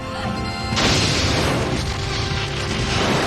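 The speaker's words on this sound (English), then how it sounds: "The Borg are firing!" A Borg cube fires its weapons at a starship in the Star Trek Borg video game. A sudden loud crash-like blast hits, then a sustained roaring, crackling barrage continues at high volume.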